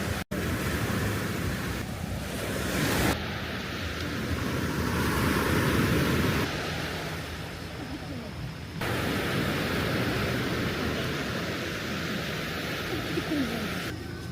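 Strong ocean waves surge and wash continuously at close range, a loud broadband roar with gusty wind buffeting the microphone throughout, swelling and easing over several seconds with no break.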